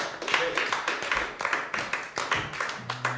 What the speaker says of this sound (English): Another round of applause for Mike Derbecker